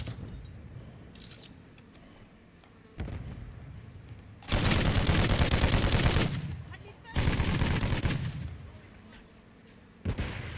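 Gunfire in Call of Duty Modern Warfare III during a Vortex Decay's Realm event: sporadic single shots, then two long bursts of rapid automatic fire, close and loud, with another shot at the end.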